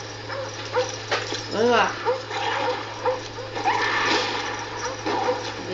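A dog in a video game barks, yelps and whimpers in repeated high-pitched bursts under steady game noise, with someone talking over it.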